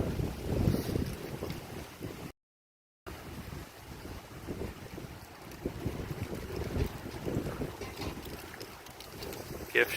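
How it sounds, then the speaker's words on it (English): Light summer wind at the Port Gamble waterfront in Washington, a steady low rumble of gusts brushing the microphone, fairly quiet, with a brief dropout partway through. "It's a little windy today."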